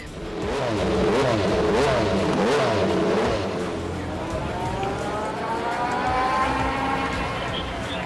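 Engine of the Honda CR-V Hybrid Racer, an 800-horsepower SUV race build, revs hard and climbs in pitch, a loud, sustained roar that rises and shifts through gears, with a narrator speaking over it.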